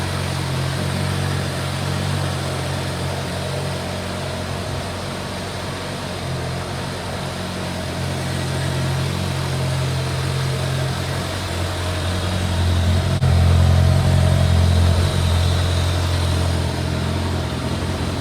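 A Kawasaki ZRX1100 motorcycle idling after a cold start, a steady low engine rumble close by that holds level and swells slightly louder toward the end, with no talking.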